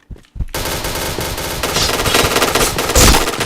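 Loud sustained machine-gun fire in a shooting video game, a rapid unbroken stream of shots starting after a brief opening burst and growing heavier toward the end, close and with no talk.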